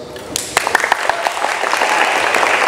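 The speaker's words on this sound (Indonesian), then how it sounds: "Aplaus." Audience applause at an Islamic boarding school gathering of final-year students, steady clapping that swells and fills the room through the whole stretch, with a few louder individual claps near the start.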